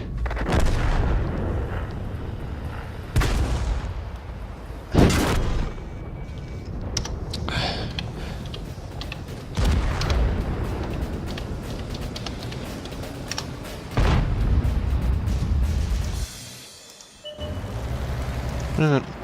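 Repeated heavy booms of high-explosive shells firing and detonating in World of Tanks gameplay recur every few seconds among continuous battle noise, with talk running over much of it.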